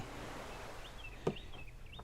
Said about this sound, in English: Hear the early morning birds.